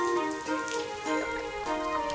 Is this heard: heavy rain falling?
yes